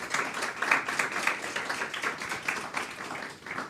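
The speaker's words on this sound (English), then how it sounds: "I would like to ask you to applaud our panel, thank them for their contribution" An audience applauding a panel at a policy conference on place-based industrial policy in Europe, a moderate, even patter of many hands clapping, heard from a short distance with no talk.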